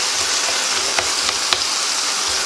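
Onions frying in a pot as the base of a Guinness stew, a steady close broadband sizzle with a few small pops and scrapes, no talking.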